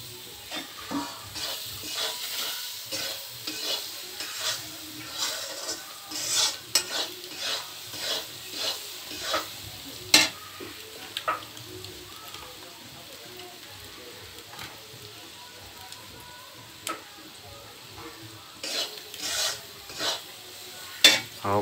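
Pasta being stirred and cooked in a pan over an open fire outdoors, with repeated scraping stirs and a soft sizzle running throughout, fairly close and moderate in level.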